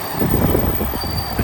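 A train passing through Baghill station, close rumbling wheels with squealing and rhythmic clatter over the rails, loud and steady for a short burst with no talk.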